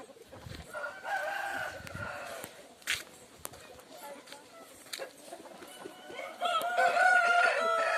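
Hens clucking and a rooster crowing in a farm shed under a cashew tree, with rising calls near and at middle distance, a few footsteps and some faint background voices.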